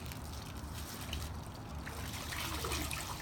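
Water trickles and splashes softly from a bucket as a shirt is wetted for spiral tie dye, a faint, close dribbling with small sloshes and no talk.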